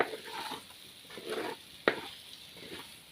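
Quail eggs are stirred into masala in a frying pan, with soft scraping strokes of a spoon in a slow repeating rhythm over a gentle sizzle, plus one sharp clink of the spoon against the pan.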